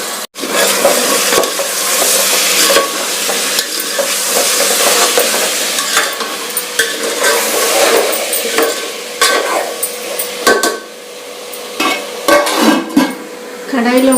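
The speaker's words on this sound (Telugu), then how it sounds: "ఆలుగడ్డ ఫ్రై అవుతుంది" Cut medium potato pieces, over half a kilo, fry and sizzle while being stirred in a large pot for a curry, with steady scraping and clanking of a utensil against the metal throughout, loud and close, no talking.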